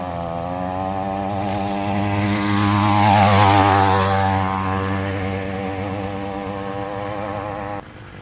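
A front-mounted gas motor on a Schwinn Meridian trike buzzes loudly as it passes, pitch rising on approach and dropping as it moves away, then fading before cutting off.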